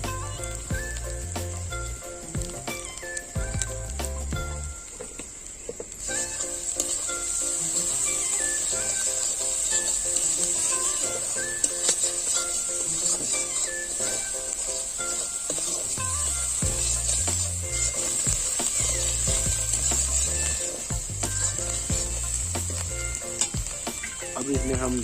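Onions frying in a pan for a Chhattisgarhi fish recipe, a continuous bright sizzle lasting the whole stretch, with occasional stirring scrapes.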